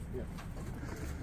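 Pigeons coo at a pigeon show, a soft low burbling that sits under nearby conversation.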